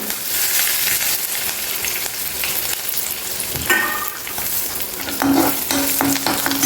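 Curry leaves drop into hot tempering oil with chana dal, urad dal, mustard seeds, dried chili and turmeric for a bitter gourd fry, giving a loud, steady sizzle with sharp spattering bursts partway through.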